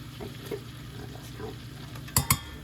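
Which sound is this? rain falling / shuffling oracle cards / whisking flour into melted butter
whisking flour into melted butter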